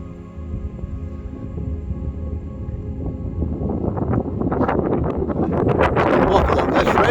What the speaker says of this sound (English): Now the wind is coming from the completely opposite direction